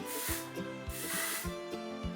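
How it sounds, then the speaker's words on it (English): Several short bursts of aerosol body spray hiss nearby, with faint voice-like tones running underneath. "This is like a simple gas body spray. Like, I'm going to spray it"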